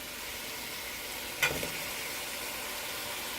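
Carrots and potato sizzle steadily in a hot pan for vegetable pulav, a constant even frying hiss with one brief clatter midway, close and moderately loud.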